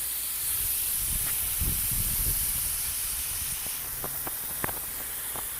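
A garden sprinkler sprays water in a steady hiss, with low gurgling bursts early on and a few faint clicks and taps later.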